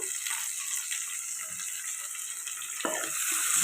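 Prawns and tomatoes fry together in a pan, giving a soft, steady sizzle with faint stirring touches that grows slightly louder near the end.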